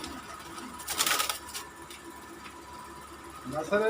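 Pigeons in a breeders' club loft give soft, low coos in short bursts, fairly faint against a quiet background.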